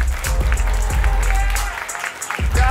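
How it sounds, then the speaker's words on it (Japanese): Crowd applause at a Japanese MC rap battle, clapping with thumping low-end bursts and a bit of crowd noise, moderately loud, with a brief lull near the end. "リュウキにも大きな拍手をお願いします"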